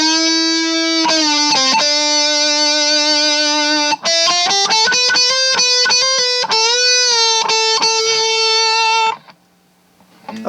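Distorted electric guitar lead tone played dry with no delay, a loud sustained note and then a run of quick picked notes and bends before the playing stops abruptly.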